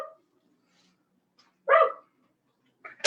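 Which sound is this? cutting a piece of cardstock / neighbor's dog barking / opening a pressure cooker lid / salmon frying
neighbor's dog barking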